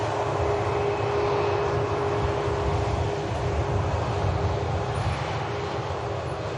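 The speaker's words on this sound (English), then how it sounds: "EasyJet just arriving over on the south side from Amsterdam Schiphol" A steady, broad jet roar of an airliner arriving at Manchester Airport holds at an even loudness throughout, a distant low rumble with no voices.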